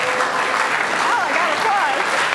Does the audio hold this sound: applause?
yes